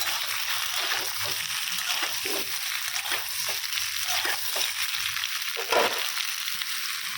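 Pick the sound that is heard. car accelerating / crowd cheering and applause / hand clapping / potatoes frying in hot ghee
potatoes frying in hot ghee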